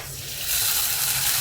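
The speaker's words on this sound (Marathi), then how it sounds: "ते पाणी टाकूया" Water is poured into a hot dhokla tempering of cumin, asafoetida, curry leaves, green chillies and sugar, producing a loud, continuous hissing sizzle close by that swells after a brief start.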